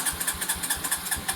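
A cheap four-wheeler ATV engine catches and runs, a quiet, rapid, evenly pulsing putter heard up close with no talk.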